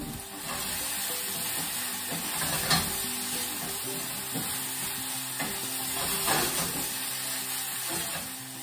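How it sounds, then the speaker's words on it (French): Carrots and onions frying in a pan give off a continuous sizzle and hiss while they are stirred now and then, with soft scraping strokes up close and no voice. "je vais aller voir mes carottes avec mes oignons. Je vais les remuer un tout petit peu."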